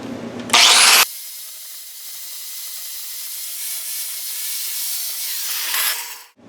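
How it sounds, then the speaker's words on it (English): A loud burst of abrasive grinding opens, then a long steady high whine of a flap disc rubbing a metal seam on a Triumph Spitfire, tapering off at the end. "running the flap disc over until both pieces of metal kind of get shiny"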